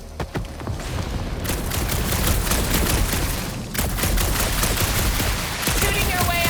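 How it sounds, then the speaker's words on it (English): Dense, continuous gunfire and blasts from combat in Marvel's Guardians of the Galaxy, loud and close, with bursts of shots and explosions piling over one another for several seconds. "Shooting your way out of every problem again"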